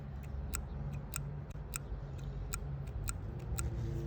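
A Shimano Stella FK spinning reel ticks as a fat Albright knot joining 12-pound braid to 12-pound leader passes the spool gap: faint, sharp clicks in an even rhythm about twice a second over quiet background hiss.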